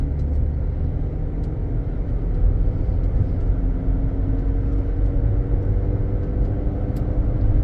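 A 2018 Jeep Cherokee pulling uphill, heard from inside as a steady low engine and road rumble under acceleration, constant and fairly loud with no speech.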